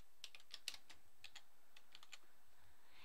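Someone types a short note on a computer keyboard, producing faint, quiet clicks in small uneven clusters with gaps between them. No one speaks.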